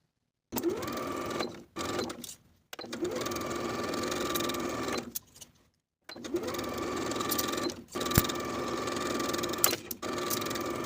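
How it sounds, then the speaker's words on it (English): A sewing machine sews shirt sleeves with a 5/8 inch seam in several bursts of steady, close whirring and ticking, separated by short silent pauses, with a sharp click near the end. "Sew both sleeves in place with a 5/8 inch seam allowance"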